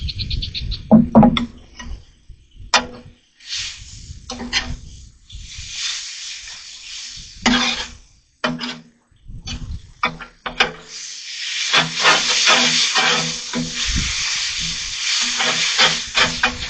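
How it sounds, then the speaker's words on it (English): Noodles being stirred through sauce in a pan at a campsite in Cooney State Park: scraping stirs and a soft sizzle come in uneven bursts, with brief gaps of quiet between them. "I'm just stirring it up so the sauce gets through all the noodles."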